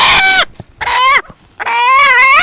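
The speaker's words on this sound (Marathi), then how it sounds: "याच्यात ही खुडूक कोंबडी आहे बरं का बघा कोर कोर करते" A broody hen gives three loud, close, drawn-out harmonic clucking calls separated by short pauses, with no voices over them.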